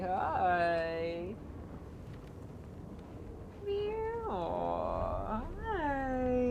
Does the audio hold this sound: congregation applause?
no